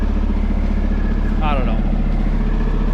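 A Peterbilt 389 truck's diesel engine, freshly fitted with new injectors, runs at a steady low idle rumble throughout, with someone talking over it.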